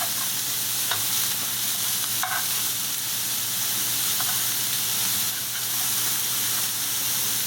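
Shrimp fry on a griddle over a medium gas flame, giving a steady, even sizzle and hiss with a few faint clinks from a utensil; no one speaks.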